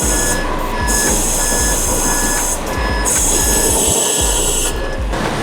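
A truck is pulled forward while repeated reversing-style beeps sound in bursts over a steady engine rumble and a constant high whine, loud and close.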